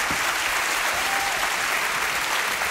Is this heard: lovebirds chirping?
no